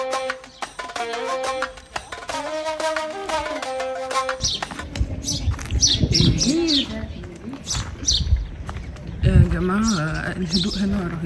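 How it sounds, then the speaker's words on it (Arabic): Birds chirp and coo in the background while someone talks over them, with some musical tones at the start. "مش عارفة سامعين صوت العصافير ولا لأ."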